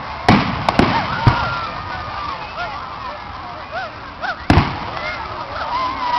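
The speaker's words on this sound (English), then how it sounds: "you know they're doing fireworks right behind us somewhere" Fireworks burst at an outdoor show, with several sharp cracks and pops spaced through the clip, some near and some farther off, while people chatter in the background and whistling rockets rise between bangs.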